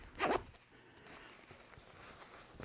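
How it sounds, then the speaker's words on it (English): A two-way zipper on the fly of ScentLok Saddle Hunter hunting pants is zipped in one quick, close rasping pull near the start, followed by quiet handling and room tone. "the fly is a two-way zipper"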